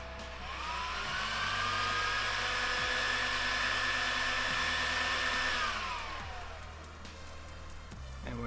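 Cooling fans in a Dell R210 II 1U rack server whir at a loud, steady high pitch, then wind down smoothly to a quieter idle hum, with occasional soft clicks.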